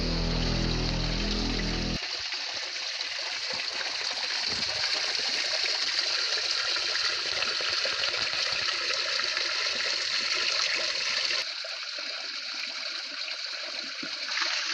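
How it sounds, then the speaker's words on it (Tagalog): A forest stream flows nearby in a steady, loud rush of water that continues without a break, with bubbling trickles and splashes mixed in and no voices. "nandito na tayo sa may sapa"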